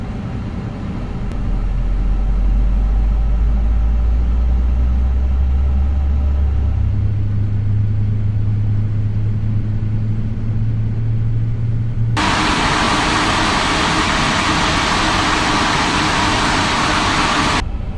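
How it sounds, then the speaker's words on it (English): Engine 1 of an Airbus A350-900 spools up in Microsoft Flight Simulator, a deep rumble rising stepwise in pitch, then a loud broadband roar joins abruptly near the end, with no talking. "Starting engine 1."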